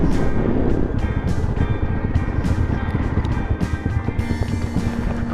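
A motorcycle fitted with a loud aftermarket exhaust roars continuously while being ridden near Sonamarg in Kashmir. The rumble stays loud and close, with wind buffeting the microphone and no pause in the engine noise.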